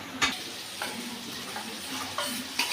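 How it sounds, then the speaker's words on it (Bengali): Marinated mutton sizzles in a hot pan, a broad hiss punctuated by several sharp scraping or clattering hits as it is moved about, close and without talk. "সেই ম্যারিনেট করা মাংসটা আমি এর মধ্যে দিয়ে দিচ্ছি।"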